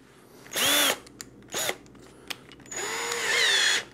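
A power drill bores into the lock of a toy vending machine, with worn bits struggling. There are short, loud whirring bursts, a brief pulse, then a longer sustained high-pitched grind, all close to the mic.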